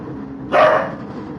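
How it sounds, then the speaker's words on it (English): A single loud dog bark, one sharp burst right up close against a steady low background hum, with no voices. "Dog's kicking off."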